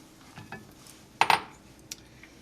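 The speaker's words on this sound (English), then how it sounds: "I'm just going to stir this until the chocolate melts" A spoon clinks against a pot while stirring cream and chocolate over very low heat, a couple of close metallic taps with faint scraping around them.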